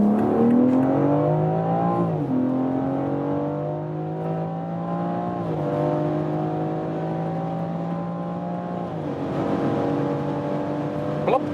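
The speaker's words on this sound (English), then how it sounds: "and let's accelerate out" BMW X4 M Competition with a 3-liter all-wheel-drive engine pulling hard from about 50 km/h, heard from inside the car as a smooth rising engine note climbing through several gear changes, steady and fairly loud.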